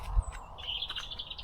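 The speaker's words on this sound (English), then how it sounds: "You can hear the birds singing in the background." Birds chirp and sing in a campsite garden in the New Forest, with a thin high call early on and a sustained bright warble from the middle onward. The calls are moderately near, with no talking.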